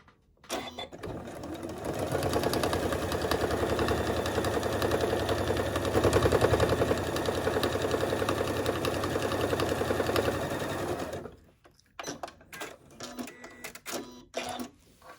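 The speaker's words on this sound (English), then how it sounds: "on my sewing machine, and I'm going to stitch right across this line that we created using a 1/4 inch seam allowance." A sewing machine runs steadily for about nine seconds, stitching across a handbag seam with a 1/4 inch seam allowance, then stops, followed by a few faint handling clicks and rustles nearby.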